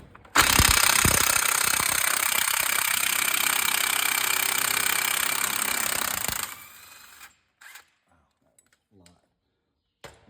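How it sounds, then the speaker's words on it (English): An impact wrench hammers at a CV axle nut on a Kawasaki Mule in a loud, continuous rattling burst of about six seconds, then cuts off, leaving a few faint clinks and near-silence. "You're gonna need an impact of some sort to break this loose."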